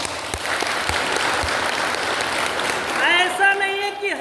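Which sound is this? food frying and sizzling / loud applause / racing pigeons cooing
loud applause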